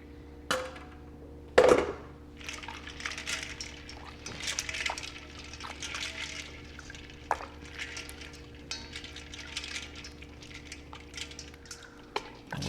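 Homemade butter is dumped into a bowl of ice water, giving a sharp splash early on, then softer wet sloshing and kneading sounds from hands working it in the water, close up with no talk.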